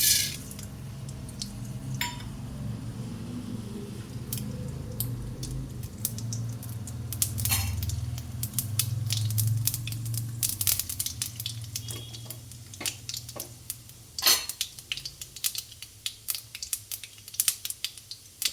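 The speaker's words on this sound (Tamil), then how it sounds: "கடலைப்பருப்பு, உளுந்தம்பருப்பு, கடுகு தாளிப்பு போட்டுடலாம்." Mustard seeds with chana dal and urad dal tempering in hot oil for bitter gourd stir-fry: a steady sizzle with sharp popping crackles that grow denser and louder toward the end, close by, no voices.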